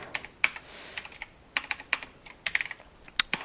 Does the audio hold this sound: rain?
no